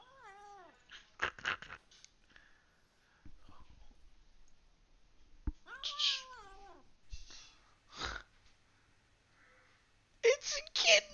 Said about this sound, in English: It's a kitten in a shoe.